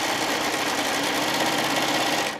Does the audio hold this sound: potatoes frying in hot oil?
no